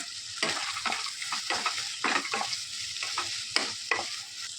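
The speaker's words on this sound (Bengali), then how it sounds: "এর মধ্যে এই যে ভেজে রাখা বাদামগুলো এ দিয়ে নেবো দিয়ে ভালো করে নাড়াচাড়া করে নেবো" Banana flower curry with fried peanuts just added is stirred in a pan, giving a steady sizzle broken by repeated scraping strokes of the spoon at a moderate, uneven pace.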